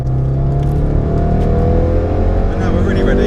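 Range Rover SVR exhaust booming as the big SUV accelerates hard, a loud, steady low roar from inside the cabin with no talk over it.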